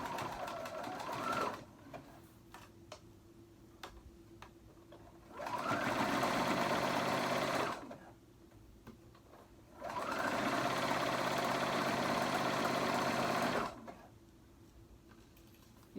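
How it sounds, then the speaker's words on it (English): Sewing machine stitching a hoodie, running in two sustained bursts of several seconds each with quiet pauses between, close and steady, with no talking. "You just want to guide the sewing machine."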